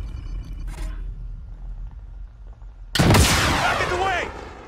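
A sniper rifle fires in Call of Duty Warzone: a sudden loud crack with echoing tail cuts in after a quieter stretch, with faint game noise before it.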